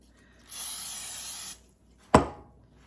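A steady hiss of cooking spray from an aerosol can lasting about a second, then a sharp knock or clunk after a brief pause.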